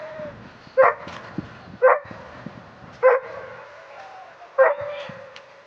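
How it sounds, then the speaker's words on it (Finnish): Dogs bark in four short, loud bursts at the start of a women's one-dog skijoring race at a Finnish national championship, one team being a young dog, with quieter crowd noise and chatter between the barks. "Aino-Kaisa Taipale nuoren koiran kanssa lähtevät ensimmäiseen SM-kisaansa"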